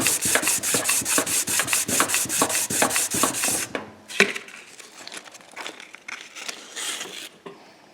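A homemade crank polisher works a strip of cut-in-half serpentine belt backed with sandpaper around a crankshaft journal, giving a fast, regular rasping stroke that then loosens into slower, uneven scrubbing, up close with no talking.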